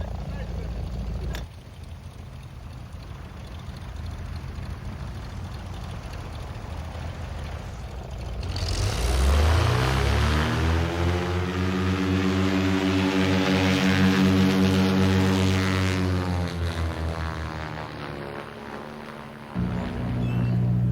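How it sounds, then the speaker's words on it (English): A blimp with two 210 hp Lycoming engines and six passengers aboard cruises at about 30 mph. Its steady engine drone builds from a quieter hum to a loud, rich tonal roar, then eases and holds. "Powered by two 210 horsepower Lycoming engines and with a full complement of 6 passengers on board, the blimp cruises at a stately 30 miles an hour"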